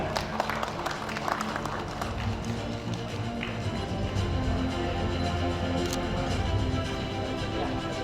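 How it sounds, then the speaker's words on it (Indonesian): Applause for Masuri SH from the audience at a provincial deliberation meeting in Dumai, a dense, fairly loud clatter of clapping hands, strongest early and continuing under a low hum of the hall and murmuring voices. "kita berikan tepuk tangan yang meriah hadirin sekalian"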